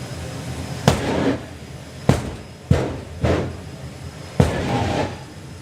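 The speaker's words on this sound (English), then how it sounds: "Martin Hill winds that turbine up even more now. And pops the bangs." Sharp, loud bangs from a turbocharged drag racing car at the FIA European Finals at Santa Pod Raceway, five explosive pops at irregular intervals, each trailing into a brief rumbling roar.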